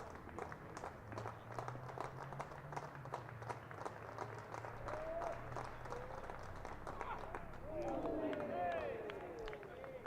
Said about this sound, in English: Fans clapping him in